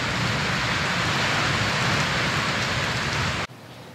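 Steady heavy rain pours down outdoors near rain chains, a dense continuous hiss that cuts off abruptly near the end.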